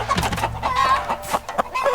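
Clucking chicken-like calls from a zombie chicken man creature in a video game, repeated in short bursts over a dense layer of game effects and background noise.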